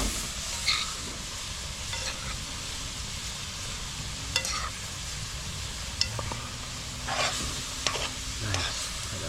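Ackee and saltfish rundown sizzling in a pot while being stirred, a constant close hiss broken by intermittent scraping and clinking of the spoon.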